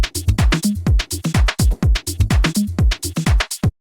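Spooky, spacey percussive hits rearranged into a minimal house drum loop, a dense run of sharp, bright clicks and knocks in a tight repeating groove, close and dry, stopping abruptly near the end.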